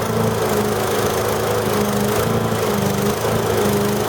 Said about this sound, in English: I noticed the mower was beginning to sputter from fuel starvation.